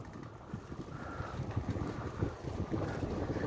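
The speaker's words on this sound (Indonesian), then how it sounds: "Ombaknya sangat ampul-ampulan kawan." Wind buffets the microphone over sea waves at high tide, a constant rough rushing roar with gusts, fairly loud and close, with no talking.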